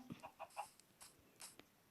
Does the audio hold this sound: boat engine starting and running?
no